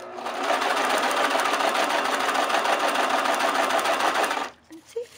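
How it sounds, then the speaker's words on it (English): A sewing machine runs steadily, stitching through crepe paper to form a ruffle, with a continuous close whirring drone for about four seconds before it stops abruptly, followed by a couple of faint bumps. "and then we're going to back stitch. And then sew."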